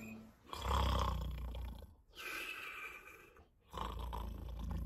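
A person imitates snoring for a children's nursery rhyme song, three long, loud, rasping breaths in a slow rhythm, each followed by a short quiet gap.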